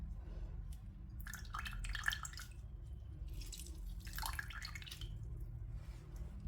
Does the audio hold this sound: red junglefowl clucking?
no